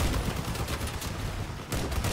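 Rapid bursts of vehicle-mounted gunfire in the online combat game Crossout, a brief dense rattle of shots with a short gap before firing resumes, moderately loud.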